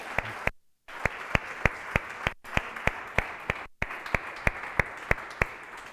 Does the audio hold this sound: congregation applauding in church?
yes